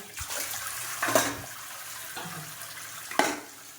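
Fish being washed under running water from a tap, a steady splash of flowing water with a few louder splashes and clunks as the fish is handled.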